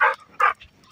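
A black Labrador retriever playing with a ball lets out two quick, sharp yips close by, a brief pair of barks less than a second long.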